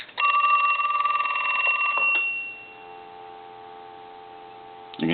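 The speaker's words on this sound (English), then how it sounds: "You can hear our dial tone." A wooden wall telephone's bell rings out and cuts off, then a steady, quiet dial tone hums alone for a few seconds before a click at the end.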